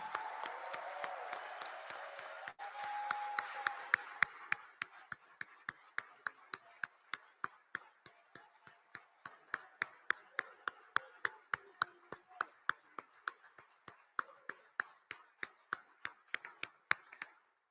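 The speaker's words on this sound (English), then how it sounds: "I think we can clap for everyone now." Audience at a world scout conference in Cairo applauding the candidates: an initial burst of group clapping fades into a slower, sparse run of sharp individual claps, fairly quiet and spaced out to the end.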